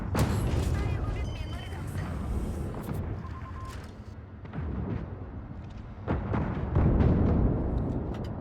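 Heavy tank cannon blasts boom out a few times in World of Tanks, among rumbling engine noise and mechanical clatter, with someone talking over the action.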